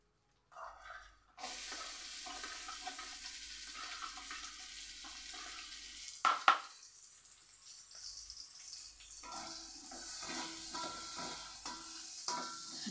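Onions frying in a small amount of oil in a home kitchen, a steady soft sizzle with occasional stirring scrapes and a brief sharp clatter midway, fairly quiet and with no talk.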